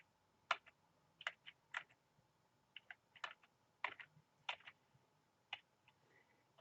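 Keys tapped on a computer keyboard, about a dozen sharp close clicks in uneven bursts with short pauses, against a quiet background.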